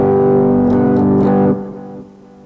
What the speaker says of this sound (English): Yeah, distortion is on.